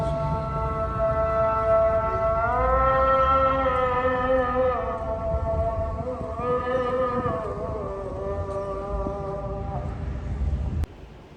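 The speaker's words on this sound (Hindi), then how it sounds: "तो आप अजान की आवाज़ भी सुन सकते हैं इधर।" Azan called from a mosque inside a school compound in the UAE, a long melodic voice with sustained, wavering tones, carried loudly over steady wind and outdoor background noise.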